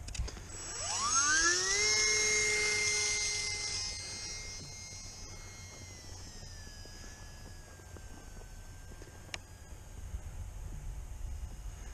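A UMX Timber aircraft engine run up to full throttle in a flight simulator game: a whining tone climbs quickly in pitch, then holds as a steady high drone that slowly fades under a low background rumble.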